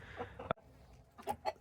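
Fayoumi chickens, an Egyptian breed kept on a farm, give a few short clucks and squawks near the start and again toward the end, with quiet gaps between.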